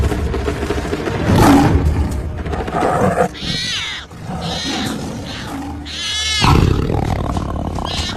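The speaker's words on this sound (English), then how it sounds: "Nice roar, Ravi." A tiger roars in the wild forest of Corbett, with deep, close, powerful roars and growling that rise and swell across the scene, including several strong surges toward the middle and end.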